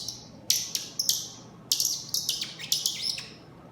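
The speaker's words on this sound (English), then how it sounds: "All kinds of bird sounds." Bright, high bird chirps come in short bursts, several quick tweets in an uneven rhythm over a quiet background.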